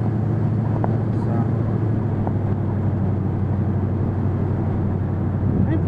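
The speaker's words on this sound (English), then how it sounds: "I'm curious to see how the audio comes through, the sound of the truck and such." A truck on the drive to a park and ride fills the cabin with a steady low engine drone and road rumble, continuous and unchanging throughout, with no clear voices.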